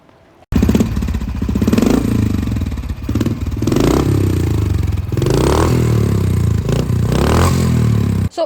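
A modified Royal Enfield Bullet Thunderbird motorcycle with an aftermarket custom exhaust starts up and idles loudly close by, its steady thumping engine note rising in a few revs before settling.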